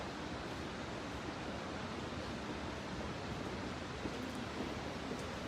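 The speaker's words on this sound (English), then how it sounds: "It sounds like rushing water. That's because we are coming up now on the Trevi Fountain." Rushing water pours in a dense, unbroken roar from the Trevi Fountain in Rome, loud and steady throughout with no talking.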